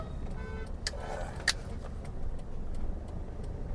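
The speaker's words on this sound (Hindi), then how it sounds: "अभी सेकंड गियर में चल रही है अपनी गाड़ी" A car moves along in second gear, a low steady engine and road rumble throughout, with a few sharp ticks and clicks from inside the cabin.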